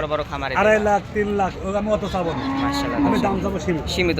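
A young black Sahiwal bull on a livestock farm gives several loud, close, drawn-out moos in quick succession, with faint background chatter around it.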